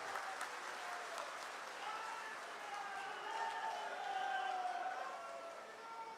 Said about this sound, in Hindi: एक बार जोरदार तालियों से माननीय मुख्यमंत्री जी का स्वागत और अभिनंदन करेंगे।